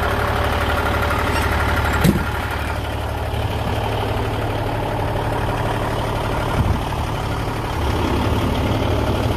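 A Peterbilt 379 semi truck's engine runs steadily with a deep, continuous low rumble while driving, heard up close from inside the cab, with a couple of brief knocks along the way.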